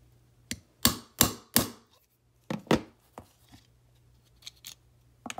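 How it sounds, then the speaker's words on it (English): A trigger pin is worked out of a Polymer80 SS80 pistol frame, giving a series of sharp, close clicks and taps in quick bursts, then a few softer knocks, with no one talking. "Let's take out our trigger pin before we take out the Allen screws."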